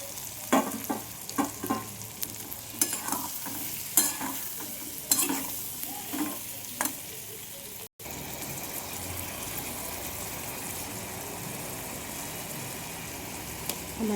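Vegetables stirred into a pan with softened tomato, turmeric, chilli and ground cumin: several scraping stirs with a strong sizzle, then a steady loud frying hiss alone after a brief break.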